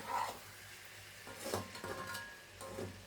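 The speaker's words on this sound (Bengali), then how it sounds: "গোস্তটা ভাজা ভাজা হয়ে যাবে তেলে।" Chicken pieces fry in oil for kala bhuna, a soft, fairly quiet sizzle broken by a few scraping stirs and light clinks of a utensil against the pot.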